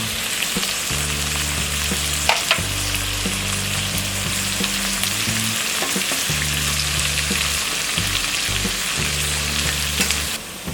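Onion and curry leaves frying in hot oil, a loud continuous sizzle with repeated scraping stirs throughout, no voices.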